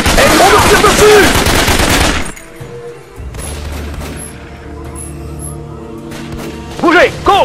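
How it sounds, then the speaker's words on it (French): Dense automatic gunfire crackles from the jungle shooter Raven Squad over the first two seconds, then fades to a quieter battle ambience with distant bursts and a voice shouting over it near the end. "Et on me tire dessus!"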